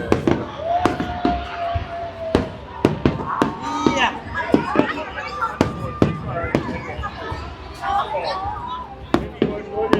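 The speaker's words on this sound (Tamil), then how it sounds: "இதை பாருங்கள் வெடி திருவிழா" New Year fireworks burst over Pattaya, Thailand: a rapid, irregular string of sharp bangs and crackles, some close and loud, mixed with whistles and an excited crowd's voices throughout.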